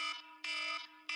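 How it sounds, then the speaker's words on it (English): Phone get-ready alarm blaring in loud, harsh electronic bursts, three pulses separated by brief quieter gaps, with no voices. "That's my get ready alarm."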